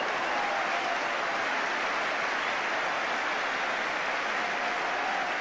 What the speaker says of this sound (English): Applause there for Devonshire